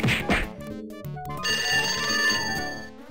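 Telephone bell ringing in the point-and-click adventure game Sam & Max Hit the Road, a bright repeated electronic ring sustained over game music, loud and close with no talk.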